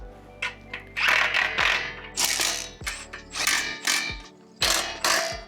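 Close ratcheting clicks of a 14 mm socket wrench tightening the chain adjusters on a Honda Shadow motorcycle, coming in repeated short bursts of pawl clatter with metallic clinks between strokes.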